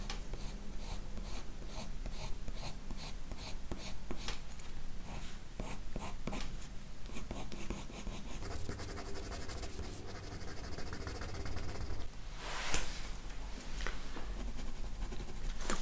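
A white colored pencil scratches steadily across paper while a rose is blended in mixed media, close and even in a long run of short repeated strokes with no talking.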